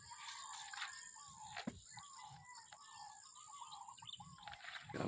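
Birds chirp and call repeatedly at close range in an outdoor setting in San Jose del Monte, Bulacan, during a racing pigeon training flight, with a low background rumble underneath.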